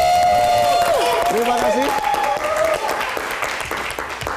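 A studio audience applauds on a stand-up comedy style TV show, a loud, dense wash of clapping that tapers off slightly over several seconds, with someone speaking over it at the start.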